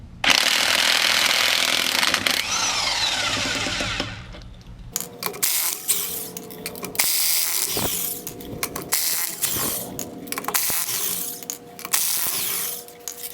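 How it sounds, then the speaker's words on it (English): An air impact wrench rattles lug nuts off a Ford F150 wheel in a home garage, loud hammering bursts broken by short pauses, with clanks of handling between them. "I have this impact wrench, and I prefer to use it."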